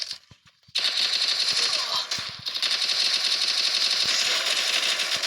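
Video game gunfire: loud, rapid automatic bursts rattle in a dense, even rhythm, starting after a short quieter stretch of scattered single shots, with a brief dip midway and voices beneath.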